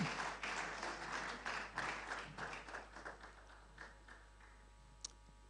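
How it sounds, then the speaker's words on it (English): An audience at a panel discussion on startup funding claps, quiet and somewhat distant, starting as a moderate round and thinning to a few sparse claps before dying out. "please clap for your mates"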